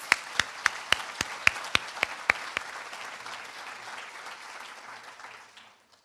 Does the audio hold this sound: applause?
yes